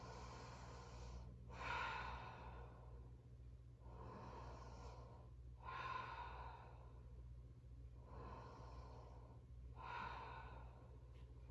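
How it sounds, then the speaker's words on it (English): Slow Ujjayi breathing in child's pose during a yoga flow, soft hissing inhales and exhales in a steady cycle about every four seconds, close and quiet over a low background hum. "Take a child's pose, knees wide, toes touch. Sink the hips back, rest. 5 Ujjayi breaths here."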